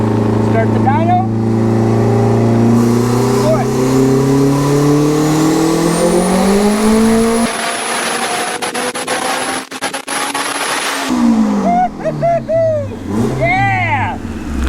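A turbocharged K-swap Honda Civic revs hard on a dyno, its engine note climbing steadily through a long pull, then dropping as the throttle lifts, with a high turbo whine over the top and people talking and cheering afterward.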